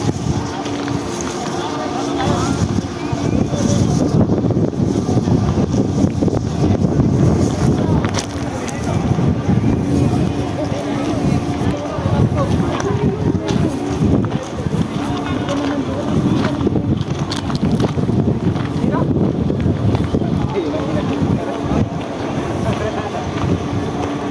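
Strong wind buffets the microphone in a continuous roar at a windmill farm in Pililla, Rizal, with a boat engine or water rumble underneath and voices faintly mixed in.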